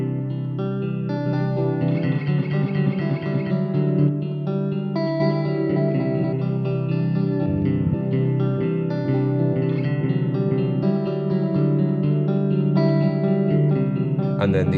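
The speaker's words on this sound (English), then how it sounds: "the glitch control, it subdivides the time of the delay and modulation." An instrument runs through an Old Blood Noise Endeavors Parting pedal with its glitch delay engaged, producing dense, sustained, chopped and subdivided repeats with modulated shimmer, loud and continuous throughout.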